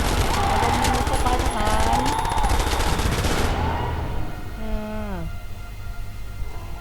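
Rapid bursts of gunfire in a zombie shooter video game, dense and loud for the first few seconds, then giving way to other game sounds with a voice talking over the action.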